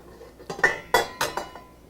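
A metal lid set back onto a cooking pot of simmering lentil soup, a few close clinks and clanks in quick succession, then quiet.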